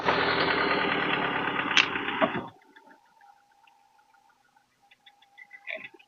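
A car engine roars loudly at close range in the open engine bay for a couple of seconds, then shuts off, leaving near silence with a few faint clicks.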